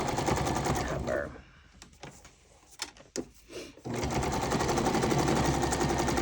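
Sewing machine stitching a junk journal signature, a steady loud mechanical whir that stops for a few seconds of quieter handling and knocks, then resumes at full speed.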